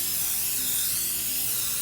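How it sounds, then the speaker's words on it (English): Canola oil spray hisses from a can onto a baking pan in one continuous, close, fairly loud burst lasting under two seconds. "So let's spray up this pan"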